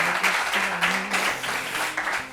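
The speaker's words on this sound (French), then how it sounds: "Je voudrais qu'on applaudisse encore pour elle." A studio audience on a television show applauds in a steady, dense wash of clapping that continues throughout, with a faint low tone underneath.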